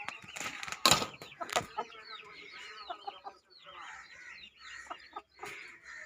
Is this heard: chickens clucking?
yes